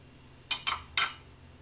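Spoon or whisk clinks against a bowl while mango cake batter with refined oil is mixed, giving three quick, close taps in a row and then a quiet pause.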